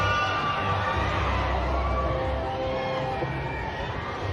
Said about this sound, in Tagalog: Grabe yung sigawan.